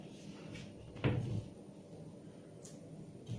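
An IKEA Dombas wardrobe door is shut during assembly, one dull close thump of the wooden panel over a low room hum, with a faint tap afterward.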